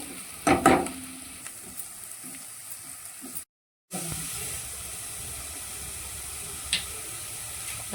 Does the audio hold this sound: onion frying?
yes